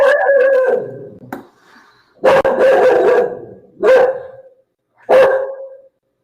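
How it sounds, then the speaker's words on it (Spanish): Four loud, close dog barks spaced a second or so apart, each sharp and ringing briefly, with quiet gaps between and no speech. "¿De quién es ese perro?"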